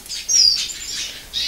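Schwarzbrust-Gelbbauch-Schwarzzeisig finches chirp at close range, giving a few short bright tweets in quick succession in a quiet room.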